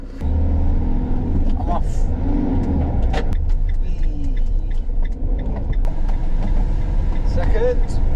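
A van starting up and pulling away, its engine a steady low rumble that runs throughout, with someone talking briefly over it and small clicks and knocks from inside the cab.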